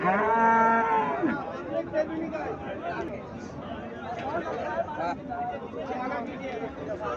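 A native cow lets out a long, low moo nearby, followed by people chattering in the background.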